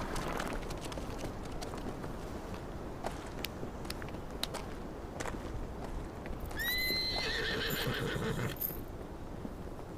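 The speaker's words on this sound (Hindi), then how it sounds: "ये नया घोड़ा किसका है?" A horse's hooves clip-clop at a steady walking pace throughout, and a loud neigh rises near the end, all fairly close with no talking.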